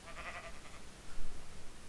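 Sheep bleating in the video game Minecraft, a short bleat near the start followed by quieter bleating and soft rustling noise, fairly faint overall.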